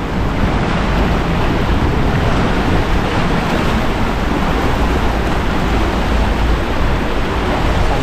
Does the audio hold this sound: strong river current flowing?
yes